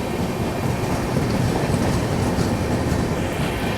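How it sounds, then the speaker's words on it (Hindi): A Sampoorn Kranti Express train on an Indian railway, running alongside another train during an overtake, gives a loud, continuous rumble of wheels and carriages with a steady rattling roar throughout and no voices. "संपूर्ण क्रांति को इसने ओवरटेक किया और वापस से ये गाड़ी ओवरटेक खा रही है।"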